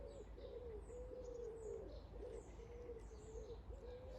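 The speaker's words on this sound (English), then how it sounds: "There's only me and an awful lot of birds because we've got a really nice collared dove." Collared dove cooing outdoors in a garden, a steady series of soft, low hoots repeating in a rhythmic phrase, fairly close and clear, with faint chirps of other birds higher up in the background.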